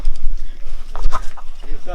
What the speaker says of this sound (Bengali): এই মুরগি আপনাদের?